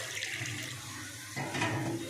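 Water is poured into a pan of fried onions and green chillies while upma is cooked, making a short splashing gush that changes tone partway through, close and fairly loud.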